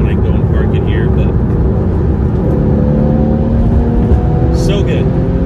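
A Porsche 911 Carrera engine drones loud and steady from inside the car, with a rising whine of revs layered over the constant rumble.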